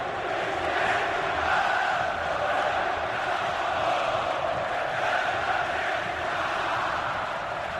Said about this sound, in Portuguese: O Palmeiras está no ataque, mas quem canta é a torcida do Corinthians